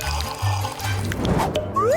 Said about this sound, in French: Regarde ces bulles.